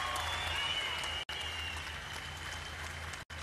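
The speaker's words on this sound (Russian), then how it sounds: "еще раз ваши аплодисменты" An arena audience at a fight event between Aleksander Emelianenko and Eddy Bengtsson applauds in a steady, dense wash of clapping, loud and continuous, cut off by two brief silent gaps.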